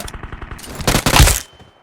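Rapid bursts of gunfire in the mobile game PUBG Mobile crackle loudly in quick succession, ending in a heavy blast that fades out.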